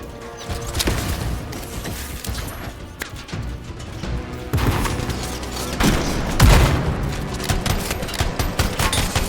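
Bursts of gunfire in the Anthem game, rapid volleys and single shots crackling irregularly throughout, with heavier impacts and booms rising toward the end.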